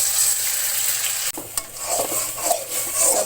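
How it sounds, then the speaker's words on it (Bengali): A paste of ground ginger, cumin, garlic and onion fries in hot oil for a chicken khichdi, giving a steady broad sizzle broken by a sharp dip and a few stirring scrapes and spatters, close and alone. "এখন এই তেলের মধ্যে একসঙ্গে বেটে রাখা আদা, জিরা, রসুন, পেঁয়াজ দিয়ে দিব।"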